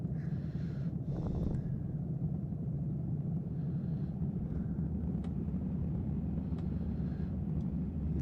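Engines of a Handley Page Hampden, a classic British aeroplane, are eased up in power as a low, steady droning rumble, with a few brief higher sounds over it early on and no voices.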